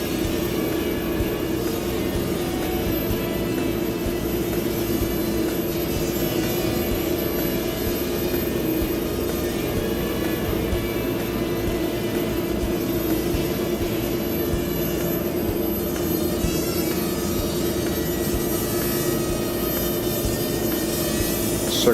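A small Hubsan X4 quadcopter drone flies a circuit, giving off a steady, continuous high-pitched motor whine with an even hum that holds at a constant level, with no talking.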